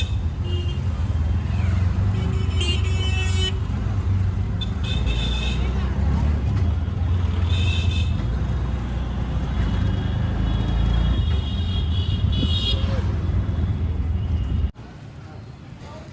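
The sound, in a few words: auto rickshaw ride through city traffic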